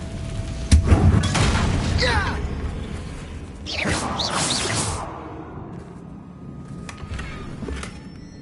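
A Confringo fire spell bursts in Hogwarts Legacy near a battered bridge, a loud boom followed by sweeping whooshes and a second rushing blast, with voices sounding in the game around it.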